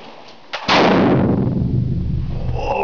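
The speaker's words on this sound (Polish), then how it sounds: "po ściągnięciu kurka broń jest gotowa do strzału, teraz będzie głośno." A single loud musket shot fired outdoors at Srebrna Góra, a sharp click of the cock then a heavy blast with a long rumbling echo that decays slowly.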